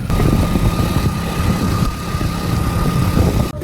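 A motorcycle rides along with a tractor tyre loaded on the back, its engine droning steadily and loudly up close with a constant vibrating rumble.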